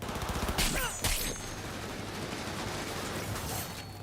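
Weapon fire in Cyberpunk 2077, with a couple of loud sharp shots early on followed by a steady bed of rapid gunfire and combat noise.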